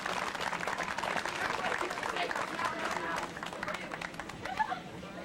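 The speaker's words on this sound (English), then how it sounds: "Let's give them all a round of applause." Audience applause at an outdoor mountain park ribbon-cutting ceremony, a steady wash of clapping from a modest crowd with some chatter mixed in, continuous and moderately loud throughout.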